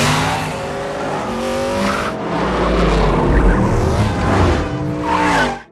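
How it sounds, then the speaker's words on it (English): A car roars away at speed during a chase in a Fast & Furious film, engine revving loud and close with tire squeal and skidding mixed into a dense action soundtrack. "Dom gets into his car and takes off after Shaw"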